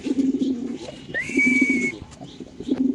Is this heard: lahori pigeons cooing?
yes